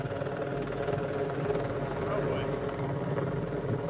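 A helicopter hovers low overhead, its rotor wash making a steady, dense, loud roar with a faint rhythmic chop that continues without a break.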